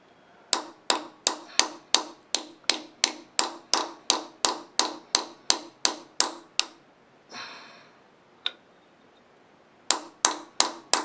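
Rivets being hammered into tractor brake shoes: a long, even run of sharp metallic hammer blows at a steady rhythm, close and loud, then a short pause with a scrape and a single strike before the blows resume.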